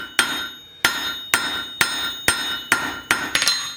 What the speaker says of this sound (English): I'm going to use the corner of my hammer, the top corner and the bottom corner, to hit those edges down at the edge of the anvil